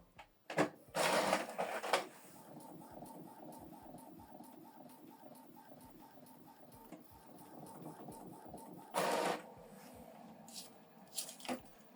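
An Epson EcoTank ET-3950 printer printing a photo, with a steady low mechanical hum and feed motor, sharper whirring bursts at the start and again near the end, and small clicks, close but quiet.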